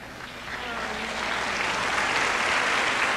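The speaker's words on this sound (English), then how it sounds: "Give her a big round of applause." Loud, dense applause from a studio audience at a 1997 televised birthday celebration special, swelling in the first half-second and then holding steady as a continuous wash of clapping.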